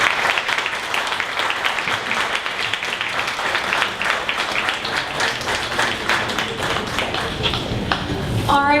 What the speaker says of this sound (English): Another round of applause for Cavalio.